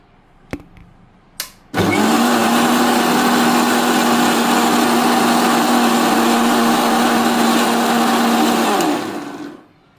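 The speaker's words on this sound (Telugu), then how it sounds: "మిక్సీ వేసుకుంటే అది మనకి వెన్నపూస అనేది వచ్చేస్తుంది సో చూడండి మిక్సీ వేస్తున్నా" Two clicks, then a kitchen mixer grinder whirs loudly and steadily for about seven seconds, churning milk cream with water into butter, before winding down.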